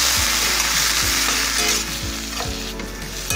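Broccoli sautés loudly in a hot pan over high heat, with a dense, close sizzle and repeated stirring scrapes.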